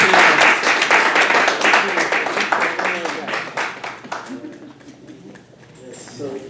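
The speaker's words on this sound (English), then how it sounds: "A lot of applause for all the panelists once again" An audience claps for the panelists at the end of a state terrorism panel discussion, loud dense applause that gradually thins into scattered claps and fades over several seconds.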